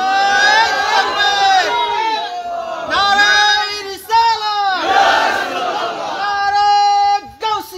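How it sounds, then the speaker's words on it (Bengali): A large crowd at an Eid-e-Milad-un-Nabi mahfil roars a takbir in unison, loud repeated chanted shouts rising and falling in several bursts with brief gaps between them. "জবান খুলে একটা তাকবীর হবে জোরে"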